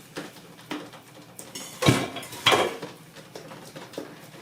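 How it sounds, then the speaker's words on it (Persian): Rice tipped into a large bowl while making dolmeh with grape leaves, sounding as scattered clinks and rattles with two sharper bursts against the bowl midway, no talking. "برنج رو میریزیم داخل این ظرف."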